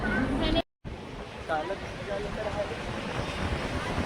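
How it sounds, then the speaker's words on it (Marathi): Strong wind buffets the microphone on the Marine Lines seafront in Mumbai at evening, a steady broadband roar that briefly cuts out near the start, with faint voices in the background. "आज हवा खूप आहे"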